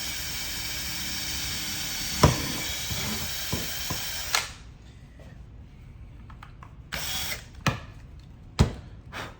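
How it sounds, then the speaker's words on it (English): A power drill whirs steadily for a few seconds drilling holes in a goalie stick, then stops; a few sharp clicks and knocks follow in a quieter, noisy room. "I'm gonna start drilling a couple of holes for where we're gonna put coppers"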